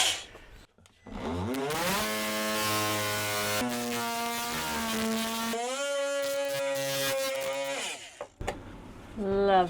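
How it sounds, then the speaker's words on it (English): An oscillating multi-tool cuts through a ceiling panel in a Mercedes Sprinter van conversion: a loud, close, high buzzing drone that shifts pitch as it bites and eases, running for several seconds with short stops at the start and end. "So, multi-tool to the rescue."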